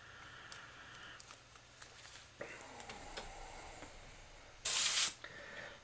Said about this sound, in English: I'm going to mist the whole area.